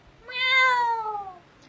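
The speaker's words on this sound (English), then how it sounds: "They know that their minute's up when they hear the sound of a kitty." A single clear cat meow plays as a buzzer-like cue marking the end of a comedian's one-minute stage set, rising then falling in pitch over about a second, alone with no voices.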